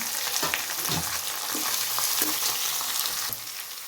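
Garlic and green chillies fry in hot oil in a pan for lemon rice, a dense steady sizzle close up with soft stirring scrapes throughout and a slight drop in intensity near the end.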